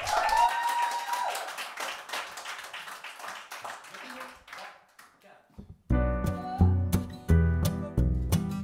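A small audience in an apartment live session claps for the singer, a brief patter of applause mixed with talk that fades out before a loud musical accompaniment begins.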